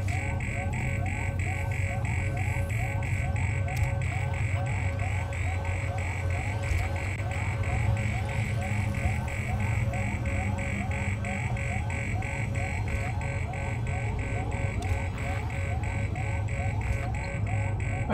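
A repeating electronic alarm in the survival horror game Alien Isolation, a rapid pulsing warble cycling steadily and continuously over a low rumbling hum, with someone talking over it.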